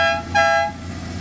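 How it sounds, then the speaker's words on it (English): Air horns on a Kawasaki Voyager motorcycle give two short, loud, tonal blasts close by, the second slightly longer, over the low hum of the idling engine. "It's got air horns."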